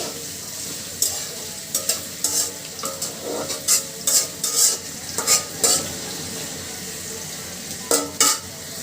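Chopped onions sizzle in a pan for a chicken curry, with repeated scraping stirs of a utensil against the pan over a steady frying hiss, close and fairly loud, no talking.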